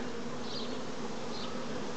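Honey bees buzzing at an open hive during spring beekeeping work, a steady, even hum of many bees close by with no talking.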